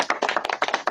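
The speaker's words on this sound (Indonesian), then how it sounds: "tepuk tangan" A small group claps in quick, irregular bursts at a lively interfaith question-and-answer debate, the sharp hand strikes close and loud over less than a second, with no talking.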